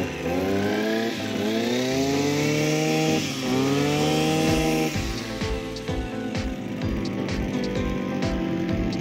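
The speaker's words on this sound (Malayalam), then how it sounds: "ഇപ്പോൾ നമ്മുടെ ബ്രഷ് കട്ടർ സ്റ്റാർട്ടായിട്ടുണ്ട്." A Husqvarna 236R brush cutter's two-stroke engine runs close by, revving up and down through rising and falling pitches before dropping to a rough, pulsing idle.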